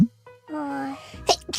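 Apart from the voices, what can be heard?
sneeze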